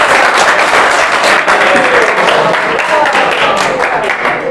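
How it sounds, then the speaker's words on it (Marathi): A crowd at a quiz show event gives loud, sustained applause, dense clapping filling the whole stretch without pause. "जोरदार टाळ्या"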